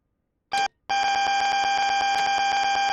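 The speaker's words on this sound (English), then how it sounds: "That alarm is the AWS self-test system." In a train cab in Train Sim World, the AWS self-test alarm gives a short loud blast and then, after a brief gap, sounds continuously with a harsh buzzing tone, loud and close, with no talking.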